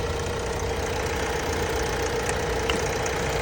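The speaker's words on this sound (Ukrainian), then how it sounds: "Двигун працює тихесенько, справно" A 2015 Renault Espace 1.6-litre turbodiesel engine idles quietly with a steady, even rumble, close by and unchanging throughout, with no voices.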